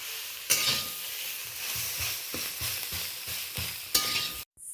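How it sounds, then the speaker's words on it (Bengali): A spatula stirs a thankuni-leaf vegetable chorchori with potato, brinjal and small prawns in a pan, giving steady rhythmic scraping strokes over a soft sizzle, with a couple of sharper clatters near the start and end. "ভালো করে খুন্তির সাহায্যে একটু নাড়াচাড়া করে নিচ্ছি।"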